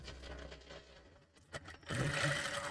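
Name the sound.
sewing machine sewing a straight stitch on a blouse sleeve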